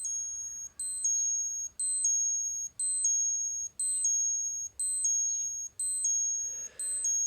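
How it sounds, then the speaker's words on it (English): A high electronic alarm beep from a Seiko SBPA003 e-ink digital watch repeats in an even rhythm, about once per second, sharp and close with nothing else behind it. "let's have a listen to some alarms, shall we?"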